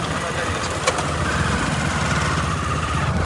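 A motorcycle engine runs steadily with a low rumbling drone, loud and close, with a brief click near the start.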